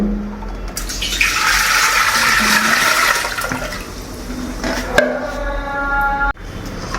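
Six litres of water poured from a two-litre can into a dum tea urn at a tea stall, a steady loud gushing rush that fades near the end with a rising fill tone, no talk.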